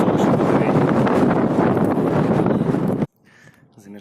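Strong, steady wind roars across a gorge during a fatbike ride in Turkey, loud and broadband for about three seconds, then cuts off abruptly to a quiet background with faint sounds.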